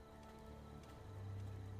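Steady rain falls in Fallout 4, a dense, continuous wash of patter at moderate level with a low background hum swelling near the end, no voices.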